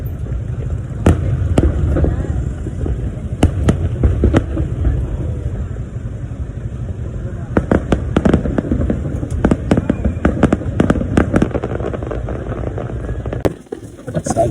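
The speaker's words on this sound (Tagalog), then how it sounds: "Ito nga pala yung final showdown ng firework display dito sa Pilipinas." Fireworks burst during the grand finale of the Philippine International Pyromusical Competition, with a dense rumble and repeated sharp booms and crackles, loud and close, over crowd noise and voices.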